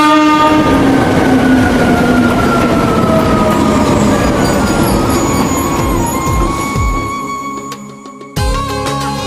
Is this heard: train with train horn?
yes